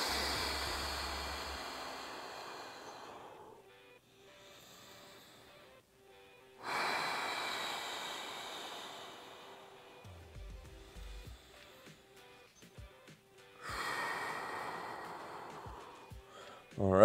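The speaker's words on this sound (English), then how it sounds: "5 deep breaths and alternating. In, exhale." Slow deep breathing during a CrossFit recovery flow: long, close, airy inhales and exhales in three drawn-out cycles separated by quiet gaps.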